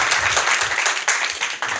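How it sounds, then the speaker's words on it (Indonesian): Audience applause at an evening political debate event, a dense burst of clapping from a seated crowd lasting throughout, with slight surges and dips in intensity. "Ya, boleh tepuk tangan."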